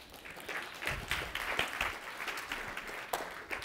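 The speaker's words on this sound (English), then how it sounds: "Give yourself a round of applause." Audience at a software developer conference talk breaks into steady applause, a dense wash of many hands clapping together at moderate distance, with no talking over it.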